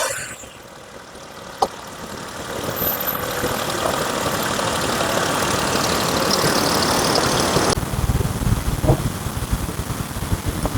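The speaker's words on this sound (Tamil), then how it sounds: "ஸோ இப்போ இதோட இன்ஜின் நாய்ஸ்" A 2024 Maruti Suzuki Swift three-cylinder engine idles steadily with a continuous rough hum, heard from close by, with a brief click early on and a shift in the background noise near the end.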